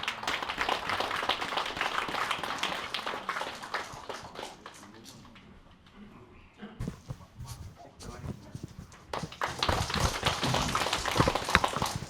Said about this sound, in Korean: 그럼 여러분들의 큰 박수로 장완익 변호사님을 무대로 모시겠습니다